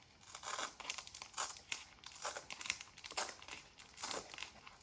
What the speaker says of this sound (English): I want to actually tear this open because of course we want to use that as a pocket.